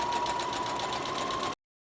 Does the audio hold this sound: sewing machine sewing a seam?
yes